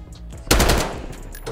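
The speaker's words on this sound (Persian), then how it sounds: "چرا تیر میزه" A Warzone video game gun fires a short burst, a sudden loud crack followed by a fast rattle that dies away quickly.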